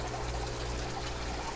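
Water poured steadily into a ginger plant container, a soft, continuous trickle and splash that runs without a break for a moment.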